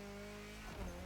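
A Mitsubishi Lancer Evo rally car in a racing game drives on sand, its engine droning loudly and steadily, then tyres scrabble and skid with a rising surge near the end.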